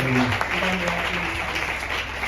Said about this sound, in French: On libère un peu les mains et on acclame prophétiquement la parole de Dieu